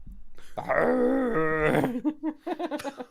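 A person imitates a dragon howling with a long, drawn-out, strained groaning wail that holds for over a second and then breaks into shorter choppy vocal bursts.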